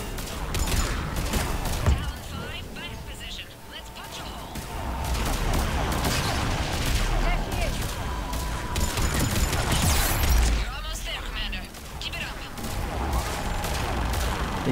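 Sustained gunfire from a sci-fi shooter battle in Mass Effect 3, near and continuous over nearly fifteen seconds, with a heavy boom around the ten-second mark and a voice talking underneath.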